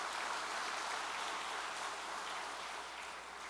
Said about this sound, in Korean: 깊은 감사와 존경의 박수를 올려주시면